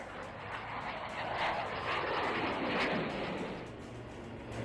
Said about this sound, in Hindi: भारतीय वायुसेना के लड़ाकू विमानों ने जब आसमान में उड़ान भरी